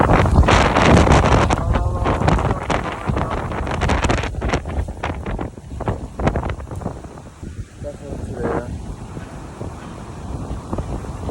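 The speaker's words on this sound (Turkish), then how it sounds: "Dəhşətli dərəcə külək." Strong wind in Dubai roars loudly and continuously across the microphone, with rough gusting surges and buffeting throughout.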